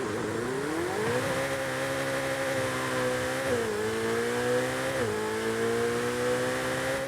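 Ferrari Roma engine in Forza Horizon 5, a steady close-up drone that climbs in pitch, holds, then dips and recovers twice as it revs and shifts, loud and continuous with no talk.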